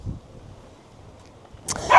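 A dog gives a short sharp bark at the end of a quiet stretch, preceded by a faint low sound, with motorcycle touring in the setting.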